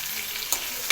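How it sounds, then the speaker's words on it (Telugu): Green chillies and curry leaves fry in hot oil, a steady close sizzle with a crackling spit or two as they are stirred. "ఆయిల్ వేడికిన తర్వాత పచ్చిమిర్చి వేసుకోవాలి. వేసి ఫ్రై చేసుకోవాలి."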